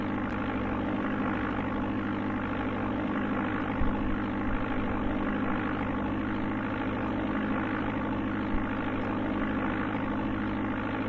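Simulated light-aircraft engine drone from the Amiga game Flight Simulator II, a steady, loud buzzing hum with strong low harmonics holding constant throughout, no voices over it.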